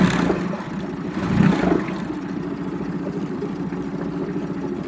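Honda BF20D3SH short-shaft four-stroke outboard motor running steadily, a close mid-pitched engine drone with a brief throttle swell early on, then settling into an even idle-like rumble.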